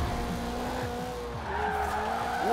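A Toyota Celica GT-Four ST205 in Forza Horizon 4 drives hard with a sustained engine drone and continuous tire squeal as it skids through a corner, loud and steady with pitch rising toward the end.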